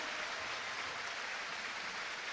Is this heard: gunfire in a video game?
no